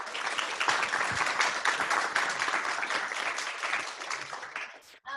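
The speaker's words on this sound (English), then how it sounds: "let's go ahead and give our presenters a big round of applause" A workshop audience at a university career center claps steadily for several seconds, a dense, moderately distant round of applause that fades at the end.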